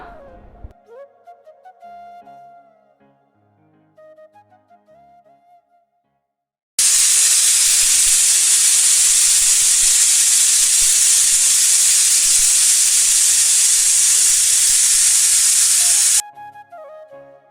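A pressure cooker of jackfruit seeds lets out a loud, sustained steam hiss that runs about ten seconds, abruptly starting and stopping, between quieter kitchen sounds and faint music.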